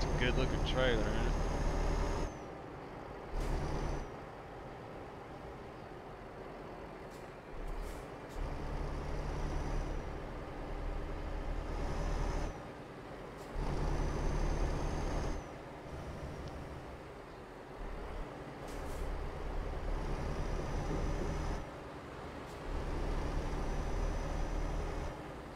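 A Volvo truck engine in Euro Truck Simulator 2, hauling a gas cistern trailer, hums low and steady while someone talks in several bursts over the quiet drone.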